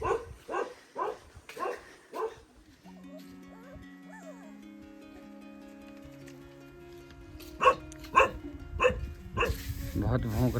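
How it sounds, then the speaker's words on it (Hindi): A dog barks in a rapid series of loud, close barks at the start, then again in a burst near the end, with music playing underneath during a rural village walk. "बहुत भौंक रहा है भाई ये कुत्ता"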